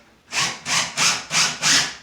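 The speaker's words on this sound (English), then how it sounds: "Don't forget to push your drill to go forward." A power drill driving screws into drywall, heard as five evenly spaced bursts of whirring grind, each about a quarter second long, close and loud, with no speech.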